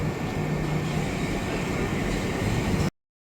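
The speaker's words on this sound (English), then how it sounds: "Here comes the train." A train pulls into a station platform with a continuous loud rumble and low drone, steady throughout before cutting off abruptly.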